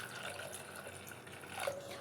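Water poured into a tamarind extract mixture in a home kitchen, a steady close trickling and splashing that runs throughout with a slight swell near the end.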